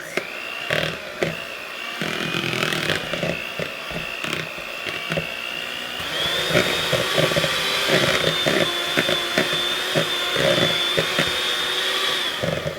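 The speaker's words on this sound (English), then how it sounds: "we are going to beat our butter and cream cheese" An electric hand mixer beats butter and cream cheese together for an Italian cream cake, a steady whirring motor hum running close and fairly loud throughout, its pitch shifting slightly partway as the load changes.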